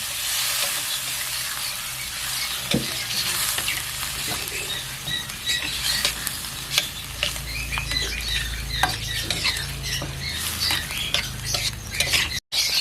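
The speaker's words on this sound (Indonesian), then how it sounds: "Kita tumis sebentar, kemudian kita masukkan airnya." Steady sizzling from a hot pan as quail eggs are sautéed, with scraping and tapping of a utensil as food is stirred and tossed continuously.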